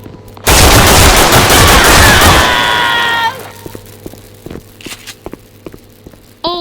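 Video game gunfire in a gory overhaul mod: a loud, sustained burst of rapid shots lasting about three seconds, followed by scattered quieter impacts and footsteps, then one more sharp shot at the end.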